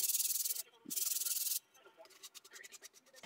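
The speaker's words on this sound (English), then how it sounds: "I gave the jar 2 coats and then sanded it lightly to remove any brush strokes" Light sanding over a painted glass jar: two loud bursts of fast, rhythmic rubbing strokes, close up, then a sequence of shorter, quieter scratchy passes.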